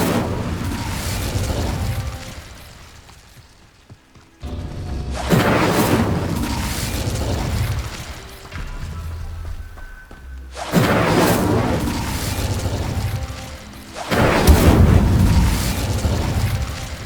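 Repeated Incendio fire spells cast in Hogwarts Legacy give loud whooshing fiery bursts and booming blasts in several heavy waves, with brief near-silent gaps between them.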